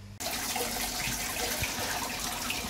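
Water from a tap gushes steadily into a corny keg during rinsing, starting abruptly after a brief silence and continuing as a loud, close, continuous splashing rush.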